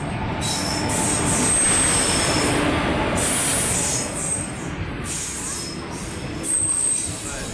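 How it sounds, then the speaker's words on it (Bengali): A passenger train on the Kumarganj to Malda route pulls into the station, loud and close, with a continuous rumble, rolling wheel noise and high metallic squeals rising and falling across the clip. "ট্রেন ঢুকে গেছে, দেখা যাক বসার জায়গা পাওয়া যায় নাকি।"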